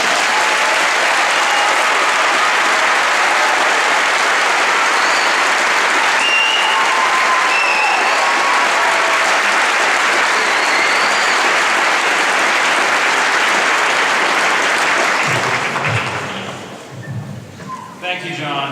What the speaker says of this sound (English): you should shower us with applause right now.